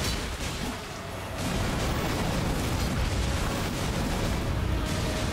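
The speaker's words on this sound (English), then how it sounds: "Oh, it's a big explosion and it looks so cool." A big explosion in the video game Elden Ring roars as a dense, sustained rumbling blast that swells after a quieter start and stays loud and full throughout, with no talk over it.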